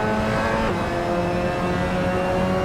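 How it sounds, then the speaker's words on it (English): Mazda MX-5 Cup race car engine at Hockenheim in Assetto Corsa, a steady close in-car drone holding high revs, with a brief shift partway through and no talking. "This time in Germany we are racing the MX-5 Cup on Hockenheim"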